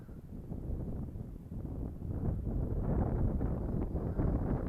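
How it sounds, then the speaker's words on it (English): Wind buffeting an Eachine Pioneer 350 GPS camera drone in flight, a dense low rushing roar that swells and gusts steadily, loud and close with no talk. "this is the wind blowing it back"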